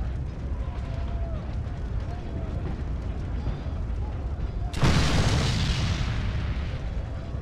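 Gunpowder barrels in the mobile game Backstab go up in one sudden, loud explosion after a pistol shot, bursting over steady in-game ambience and then roaring on as a dense, lingering rumble.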